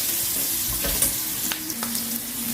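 Onion frying in butter and oil in a pan, a steady close sizzle with a low hum and a few soft stirring clicks throughout.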